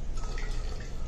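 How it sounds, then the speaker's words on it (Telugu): Water dripping and trickling from a wet lining cloth being wrung out, a soft, continuous patter of falling drops close by. "ఫస్ట్ ఈ క్లాత్ని ముందే బాగా నీట్గా పిండేసుకుంటాను నేను."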